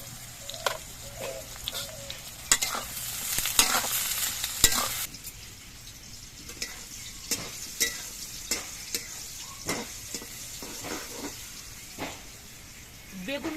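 Eggplant frying in hot mustard oil in a wok, a steady close sizzle broken by sharp crackles and scraping stirs, with occasional faint background sounds.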